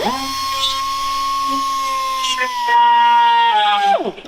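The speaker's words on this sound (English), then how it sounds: "first thing I'm gonna do is I'm going to just ream a little" A rotary tool reams plastic in preparation for plastic welding, giving a steady, close, high-pitched whine that shifts pitch slightly partway through and then winds down at the end.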